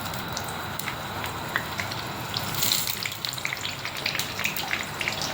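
Brinjal (eggplant) pieces frying in oil in a pan, giving a steady close crackling sizzle with scattered bright pops that thicken toward the end, no talking.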